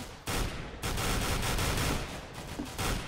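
Sustained automatic gunfire crackles in dense, overlapping bursts during a Counter-Strike match on the Inferno map, loud and continuous with only brief gaps between volleys.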